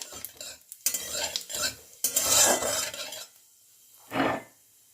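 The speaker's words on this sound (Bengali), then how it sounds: "তেলটা গরম হয়ে গেলে এবার ফোড়নে দিয়ে দিচ্ছি হাফ চামচ সাদা জিরে আর একটা তেজপাতা ফোড়নটা কয়েক থেকে নেড়ে নিচ্ছি" Cumin seeds and a bay leaf tempered in hot oil for a raw papaya and potato curry, stirred with a utensil: scraping, rubbing strokes in bursts against the pan with a faint sizzle, ending with one short stir after a pause.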